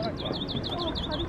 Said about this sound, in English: There's some really lovely bird sounds you get.